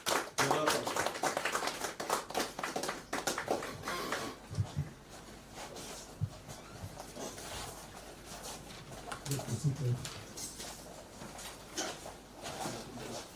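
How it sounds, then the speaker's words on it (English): Guests at a celebration for a man of honor clap in a burst that is dense and close at first, then thins into scattered, softer claps with faint background murmurs and a few taps. "Welcome with me once again with a round of applause and a standing ovation."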